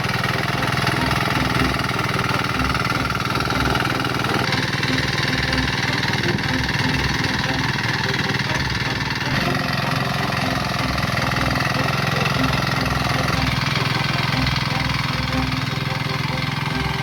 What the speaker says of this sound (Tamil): உடனே வண்டியை ஸ்டார்ட் பண்ணி உழவு ஓட்ட ஆரம்பிச்சிட்டேன்